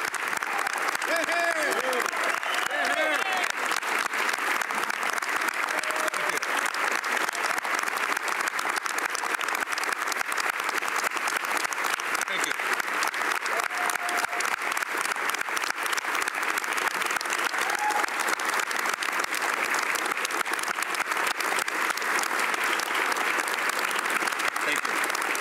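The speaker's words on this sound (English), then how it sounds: "John Baird getting applause" Long, steady applause in the parliament chamber for John Baird, a broad even wash of clapping with occasional faint voices beneath, continuing without a break.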